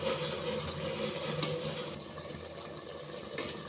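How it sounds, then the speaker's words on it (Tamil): Water pours steadily into a cooking pot of vegetables for a quick biryani, a continuous close splashing stream with no talking. "அடுத்து நம்ம தண்ணியை சேர்த்துக்கலாம்."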